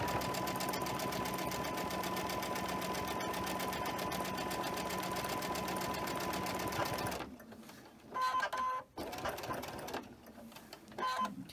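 Sewing machine chain stitching quilt rows, a fast, steady mechanical whir running continuously for several seconds before stopping, then short bursts of stitching with pauses between them, close up.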